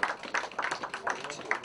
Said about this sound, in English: Give him a big round of applause there.